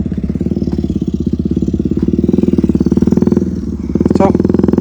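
A motorcycle on its side stand idles with a steady, rhythmic putter at close range and briefly revs near the end, while people talk over the engine.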